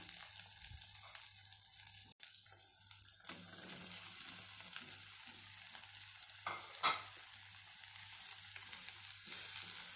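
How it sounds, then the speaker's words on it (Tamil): Okra with onions and green chillies sautéing in a pan, a steady soft sizzle with stirring scrapes throughout, one sharp knock early on, no talking. "வெண்டைக்காயை சேர்த்து நல்லா வதக்கி விட்டுருங்க"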